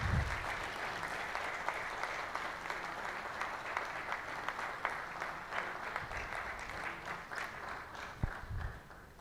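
An audience at a national summit on environmental and social governance bursts into sustained applause, a dense crackle of many hands continuing for about nine seconds with a few louder individual claps standing out near the end.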